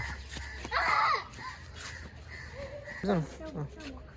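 A crow caws several times, a few harsh calls near the start and a quicker cluster later, with children's voices and background chatter around it.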